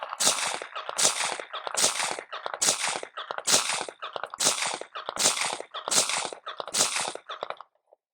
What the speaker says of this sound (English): Today I'm going to try the B8 targets at 15 yards, 10 shots, with a 10-second par time.